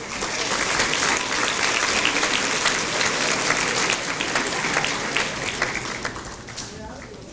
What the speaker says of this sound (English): hold your applause until all graduates have received their diplomas